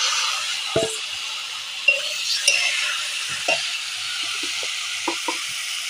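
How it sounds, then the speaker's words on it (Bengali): Meat tipped into hot spices in a pan, frying with a steady close sizzle and hiss, broken by several stirring scrapes and clatters of a spoon against the pan. "এই যে মাংসগুলো ঢেলে নিচ্ছি।"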